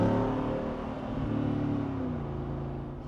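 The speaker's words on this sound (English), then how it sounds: "I absolutely love the sound of a V8 early in the morning" A Jeep Wrangler 392 V8 engine revs hard and steadily, a deep throaty roar that stays loud and close throughout with no voices.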